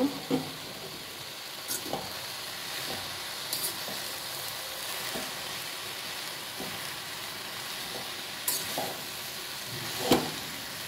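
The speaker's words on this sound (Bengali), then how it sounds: "এবার এটা নাড়াচাড়া করব।" Tharkol greens fry in a pan over a high gas flame with a steady soft sizzle, broken by occasional clinks and scrapes of stirring.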